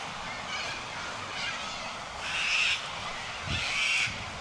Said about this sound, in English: You can hear the cockies squawking. These are galahs.